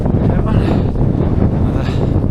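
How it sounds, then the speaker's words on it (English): Strong gusty wind on a mountain summit in North Wales buffets the microphone in a continuous low roar, close and loud, with no clear voices. "Windy up here, man."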